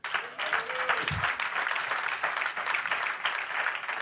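Church congregation applauding for the Lord during a Sunday morning service, a steady dense clapping that fills the room throughout, with a brief low voice or tone near the start.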